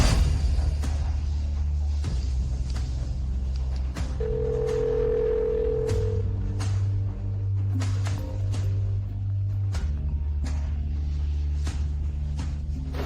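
An unanswered telephone call rings out in repeated tonal bursts over a sustained low background drone, the tones changing pitch partway through.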